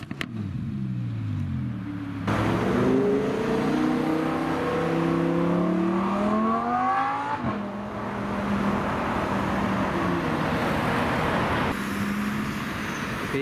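Cars passing during a weekend of car spotting, with engines rising and falling in pitch as they accelerate by; several vehicles sweep past in succession, loud and fairly close, with no talk over them.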